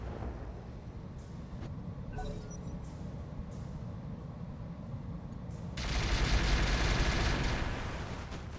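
Mech weapons firing on an enemy's rear arm in the Roguetech battle game, a steady rumble of distant gunfire and impacts that swells into a louder, denser barrage near the end, with no voices.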